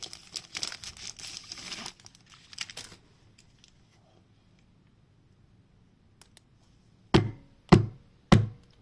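A package is unwrapped by hand, close paper crinkling and rustling for a few seconds, then quiet, followed by three sharp separate crackles or snaps near the end.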